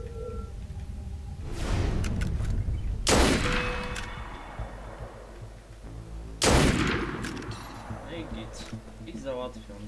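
Gunfire in Assassin's Creed Unity, a few loud sharp shot bursts with ringing tails at irregular intervals, amid game ambience and muffled commotion.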